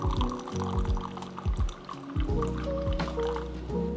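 Water pours from a gooseneck kettle in a steady trickle, with splashing and shifting pitch as the stream fills a vessel; a quick, forceful pour, close and moderately loud throughout.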